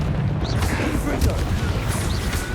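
Confringo fire spell blasts in the Hogwarts Legacy video game, a dense burst of crackling explosive booms under constant combat noise and a voice speaking over it.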